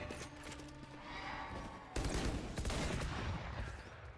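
During a Valorant pro match on the Sunset map, pistol-round gunfire breaks out halfway through as a dense burst of shots that stays over faint background game audio.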